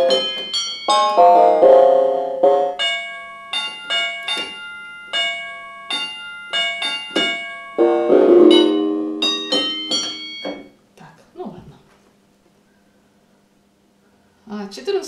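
Bright, bell-like tones from a Denn DEK610 synthesizer ring out in a slow melodic run, each note sustaining and overlapping before fading into near silence, with one soft note returning at the end.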